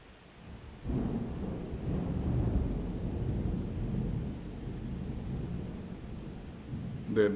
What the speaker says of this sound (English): that's the thunder rolling.